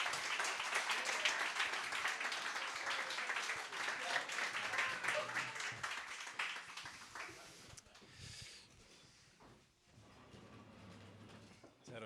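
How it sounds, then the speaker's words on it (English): Audience applause for Father Martin Magill at a talk, fairly faint steady clapping that fades out after several seconds, followed by quieter room noise and handling sounds. "So let's give a round of applause to Father Martin Magill."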